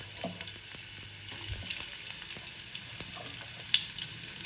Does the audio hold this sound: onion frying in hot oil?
yes